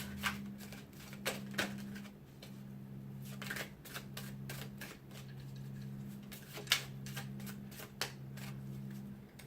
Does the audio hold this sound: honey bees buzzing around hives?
no